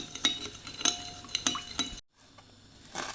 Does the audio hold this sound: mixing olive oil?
yes